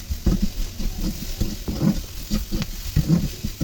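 Flat beans frying in a pan for a bean paste made with nigella seeds, a close, busy sizzle broken by repeated scraping stirs of a spatula in an uneven rhythm.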